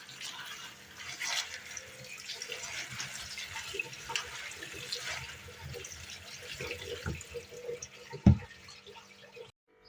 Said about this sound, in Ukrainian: Зараз ось так його файненько мию.